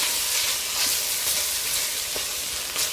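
Ginger, garlic and onions sizzle steadily in a hot pan, a dense continuous hiss with faint scrapes from stirring and no voices.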